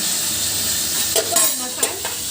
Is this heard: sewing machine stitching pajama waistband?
no